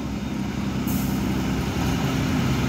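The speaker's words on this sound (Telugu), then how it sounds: "కింద నుంచి అయితే ఒక బస్సు అయితే పైకి ఎక్కుతుంది" A Tata bus grinds uphill on a ghat road, its engine droning low and steady at close range with a constant rumble and no talk.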